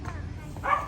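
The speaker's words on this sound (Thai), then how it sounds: "นั่นเสียงหมา" A dog gives a short, distant bark, with people talking over it.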